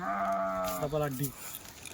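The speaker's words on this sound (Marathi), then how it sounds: "बघा शेळी" A Kathiawadi goat lets out a loud, wavering bleat lasting over a second, close by. A quieter tail follows, then fades into soft background noise.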